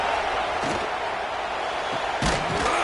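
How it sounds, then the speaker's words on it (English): A stadium student section roars in a college football video game, a dense and steady crowd wash with a couple of louder swells. "The mighty Utah student section alive and bringing the noise on 3rd down."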